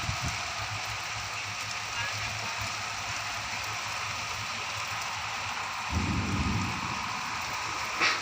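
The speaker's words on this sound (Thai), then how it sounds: "นี่ลมพายุนี่" Storm wind and rain sweep over a Thai farm with durian and banana trees, a constant loud wash of rain and gusting air that swells near the end.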